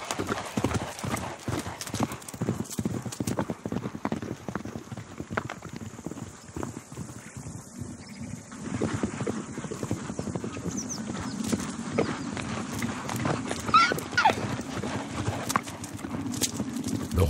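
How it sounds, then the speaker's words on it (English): Przewalski's horse stallions in a tense clash: rapid hoofbeats and thudding steps run throughout, a high neigh breaks out near the end, and a narrator's voice carries over part of it. "He takes his frustration out on Avon, a younger, quieter stallion."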